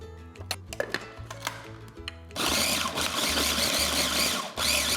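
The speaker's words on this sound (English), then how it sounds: "And put that in our processor" A food processor chops a large chunk of onion: first a rapid, stuttering run of pulses, then a loud, steady whirring grind that stops briefly near the end and starts again.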